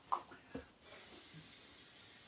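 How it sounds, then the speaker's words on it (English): Hairspray from an aerosol can misted onto a charcoal and acrylic portrait: a couple of soft knocks, then a steady, close airy hiss that runs unbroken to the end. "Okay, now, hairspray. I'm going to spray it."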